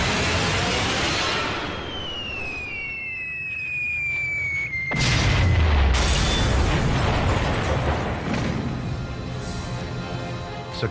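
Heavy aerial bombs exploding across a rail yard during a 1942 daylight bombing raid: a falling whistle gives way to a sudden loud, rumbling blast that rolls on as a sustained roar of further detonations.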